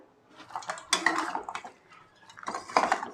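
Jaggery being stirred into pickle spices for a sweet-sour galgal (citron) pickle in a pan, giving two bursts of scraping, clinking metal-on-pan stirring separated by a quieter pause, close and moderately loud with no talk.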